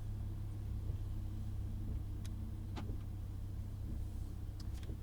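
Lamborghini Huracan on a race circuit, a low steady engine rumble heard from inside the car, moderately quiet, with a few brief clicks over the drone.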